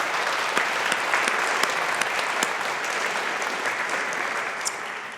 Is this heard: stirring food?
no